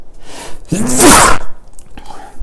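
A single loud, sharp sneeze bursts out close by, followed by a brief breath and quiet.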